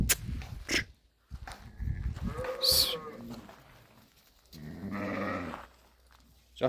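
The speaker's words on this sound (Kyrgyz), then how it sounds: "койдун козусу туугандар." Kara Kashtan sheep and their lambs bleat several times, close by and fairly loud, with rough gaps between calls and people talking nearby.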